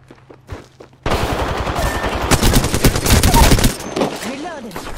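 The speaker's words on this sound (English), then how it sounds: "I am taking fire, friends." Sustained rapid automatic gunfire from a battle royale shooter video game, dense bursts of shots loud and close after a quieter opening, with the player under fire and faint background game noise.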